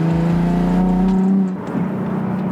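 A 2014 Nissan 370Z engine rises in pitch as the gas pedal is pressed, giving a loud, smooth droning whir from inside the car before the tone drops and settles.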